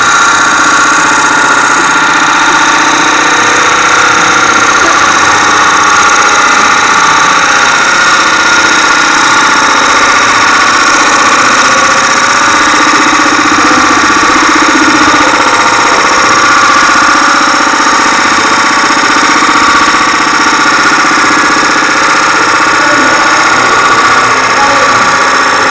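A machining tool cutting wood at 917 RPM, a steady loud whining drone with grinding chatter that runs unbroken throughout, no voices.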